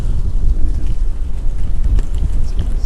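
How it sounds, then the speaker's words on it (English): Gusting wind buffets an outdoor microphone as a storm approaches, a steady loud rumble of wind noise with no talking. "Man, it's getting windy here."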